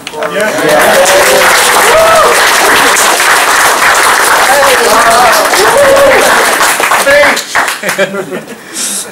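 A Scrum Bangalore meetup crowd gives a big round of applause, loud sustained clapping from many people with chuckles, laughter and chatter over it, tapering off near the end.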